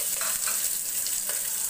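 Mustard seeds, onion, dried red chili and curry leaves crackle as they fry in hot oil in a pan. The sizzle stays steady and close throughout, with faint stirring and no talking.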